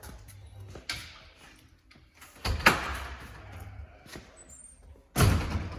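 A small keyed-lock access door on a 2026 Forest River Wildwood 42ICE travel trailer is unlatched and swung open, giving a few close thumps and clicks of latch and panel with quiet pauses between them.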